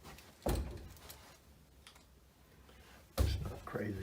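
Honeywell T6 thermostat cover door snapped closed: two sharp plastic clicks, one early and a louder one near the end, close to the mic with quiet room noise and faint handling sounds between.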